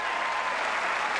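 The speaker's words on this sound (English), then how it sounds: "And a big roar from this crowd" A tennis crowd at a 2002 Los Angeles match between Gambill and Agassi roars and applauds in a sustained, dense wash of clapping that swells slightly at the end.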